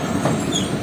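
Shaheen Passenger train pulling in and halting at Sodhna Kopra railway station, a steady low rumble of carriages with faint wheel noise, close and continuous, no voices.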